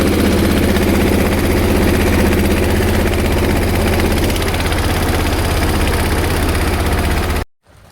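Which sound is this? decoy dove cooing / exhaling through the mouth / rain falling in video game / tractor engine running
tractor engine running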